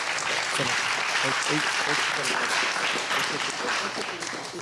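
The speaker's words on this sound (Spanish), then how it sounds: "Dar un aplauso al Señor" Church congregation claps in praise during a bilingual Spanish-English service, a sustained, fairly even burst of applause with voices mixed in, tapering slightly toward the end.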